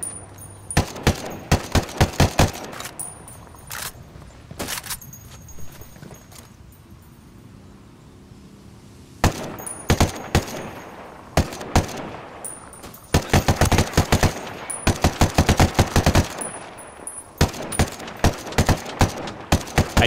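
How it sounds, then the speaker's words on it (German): AK rifle fire in the video game Ghost Recon Wildlands, loud bursts of sharp shots in quick volleys separated by brief quieter gaps, with rapid automatic strings near the end. "Ich finde, die AK hört sich gut an."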